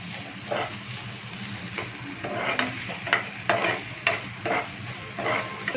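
Onions frying in a pan with a steady sizzle and repeated stirring strokes that rise and fall in regular bursts, close and fairly loud, with no talking.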